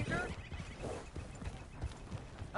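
Horse hooves clip-clop in the open-world western game Red Dead Redemption 2, a steady rhythmic patter of hoofbeats running under a continuous bed of ambient noise and voices.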